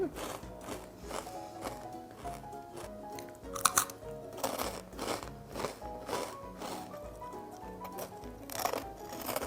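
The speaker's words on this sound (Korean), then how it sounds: "우리 흑미에 아몬드와 호박씨를 넣은 누룽지 스낵인데요. 고소한 흑미 누룽지를 튀겨냈는데" Fried black rice nurungji snack with almonds and pumpkin seeds being eaten, close crisp crunching and chewing in an irregular rhythm, with one sharper crackle partway through.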